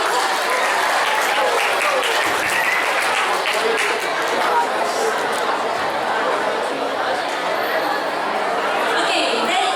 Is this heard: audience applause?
yes